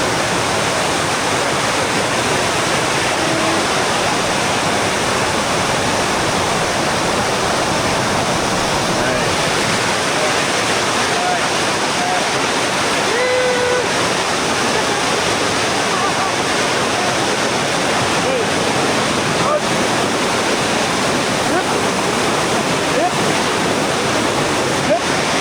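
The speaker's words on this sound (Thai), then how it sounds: "เดี๋ยวนี้ กำลังที่ข้ามน้ำตกเนาะ" Waterfall in southern Laos roaring steadily and close while it is being crossed, a dense continuous rush of falling water filling the whole clip with no break.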